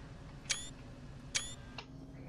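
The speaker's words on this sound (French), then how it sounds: "Une petite photo comme ça, ce serait pas mal." Two crisp camera shutter clicks about a second apart, taken in a bus simulator game on a Szombathely line 3 map, with a fainter click after and low engine hum underneath.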